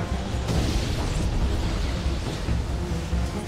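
Gyrocopter's call down missiles in a Dota 2 match hit with a dense, continuous rumble of blasts and bursts, loud and layered with no clear gaps between impacts.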